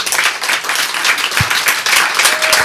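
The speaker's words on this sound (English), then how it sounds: "just give a round of applause to everybody who helped out" An audience applauds at a live debate event, dense steady clapping from many hands sustained throughout with one brief low thump partway through.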